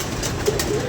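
Pigeons coo close by in a soft, brief burst of throaty calls with no other sound over them.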